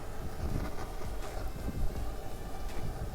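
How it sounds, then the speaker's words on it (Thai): Strong wind gusting outdoors in broadband rumbling buffets, steady and loud across the whole stretch with no voices, while a Petromax 834 kerosene pressure lantern is being preheated with a gas torch. "ลมพัดเยอะด้วย"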